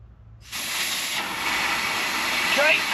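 Compressed air hisses sharply from a compressor hose used on car brake calipers, starting abruptly and holding a loud, steady rush to the end.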